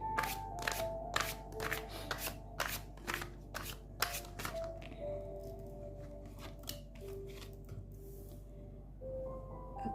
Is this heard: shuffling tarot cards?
yes